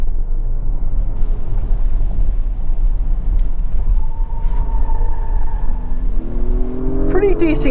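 A turbo V6 in an Acura MDX Type S SUV accelerating in Sport Plus mode, a continuous close engine rumble from inside the cabin that builds toward the end, with someone talking over it.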